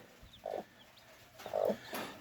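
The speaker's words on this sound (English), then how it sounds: "I hear them chirping in the back." Faint, high chirps from young chicks come in two short bursts against a quiet background, somewhat distant.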